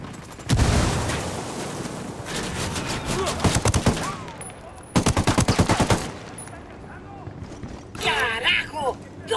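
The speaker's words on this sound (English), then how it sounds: "Opening fire." Video game battle gunfire in a guerrilla-mode match: loud bursts of rapid automatic fire in several long strings with short gaps, and game voices calling out between and over the shots.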